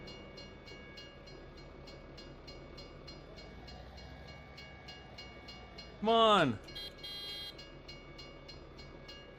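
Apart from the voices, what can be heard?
train passing in video game Farming Simulator 17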